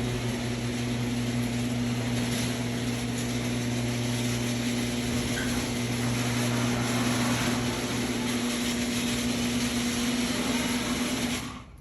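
Motorized garage door opener running, a steady mechanical hum with a strong droning tone lasting about eleven seconds before cutting off, close and moderately loud, with no talk.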